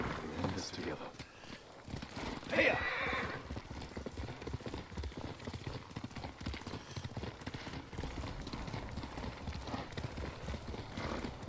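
Horse hooves clip-clop steadily in Ghost of Tsushima, a game set in feudal Japan, with a brief whinny near the start and game dialogue and music running underneath throughout.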